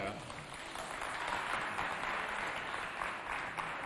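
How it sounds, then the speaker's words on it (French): An audience at a youth holiday cultural contest applauds to welcome a contestant, a steady wash of clapping that runs through the whole stretch at a moderate distance. "On applaudit pour accueillir en première position Ketsia de la paroisse Sacré-Cœur."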